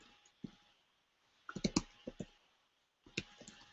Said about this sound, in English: I'm just going to go ahead and click here